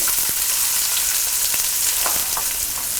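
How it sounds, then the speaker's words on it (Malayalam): Chopped small onions sizzle steadily in hot coconut oil in a skillet, a dense, even crackle with no one talking. "ഒരു സ്കില്ലറ്റിലോട്ട് 3 ടേബിൾ സ്പൂൺ വെളിച്ചെണ്ണ ഒഴിച്ച് ചൂടായി കഴിയുമ്പോൾ ഇതിലോട്ട് നമ്മൾ കട്ട് ചെയ്ത് വെച്ചിരിക്കുന്ന ചെറിയ ഉള്ളി"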